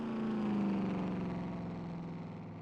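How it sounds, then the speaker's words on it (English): A damaged race car engine in a Talladega Superspeedway racing video game runs with a continuous rough drone whose pitch sinks slowly as the car slows, loud and alone. "Sounds like that is a very unhealthy car here for the 544 of Frederick Winklevoss."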